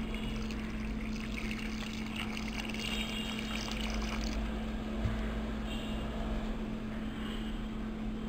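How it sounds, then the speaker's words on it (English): Water pours steadily into a pressure cooker over chickpeas, a continuous splashing wash over a low steady hum, with one brief knock midway. "And add enough water to cover it."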